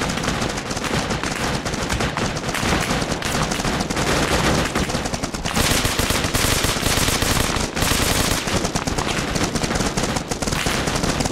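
Gunfire in the military shooter Arma Reforger pours out as loud, dense machine-gun and rifle bursts, relentless and close for the whole stretch with barely a pause.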